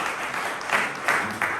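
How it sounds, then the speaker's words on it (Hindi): A church audience claps for the ladies during a sermon, a short, steady wash of applause with a few louder swells, filling the room with no voice on top. "Let's clap for the ladies."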